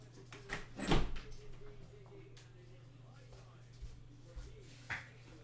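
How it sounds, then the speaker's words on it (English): A door is pushed slightly closed during a rugby league watch-along, giving one clear thud-like impact early on, followed by a few softer knocks over a steady low room hum. "All right, I'll close the door slightly."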